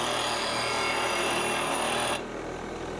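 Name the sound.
sharpening roughing out gouge on grinding wheel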